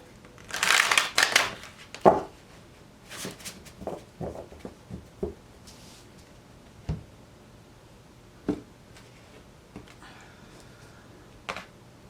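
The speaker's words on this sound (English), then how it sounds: "I'm going to do one more shuffle here." Tarot cards are shuffled and handled: a burst of riffling and slapping at the start, then scattered soft taps and flicks spaced out, close and quiet.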